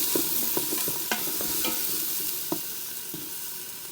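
Vegetables searing in an Instant Pot set to sauté, giving a continuous close sizzle broken by several quick utensil scrapes and taps against the pot, with no one speaking.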